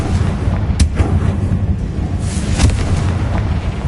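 A Confringo fire spell bursts in Hogwarts Legacy, a loud booming blast with sharp cracking hits layered over a rumbling roar that rolls on for several seconds.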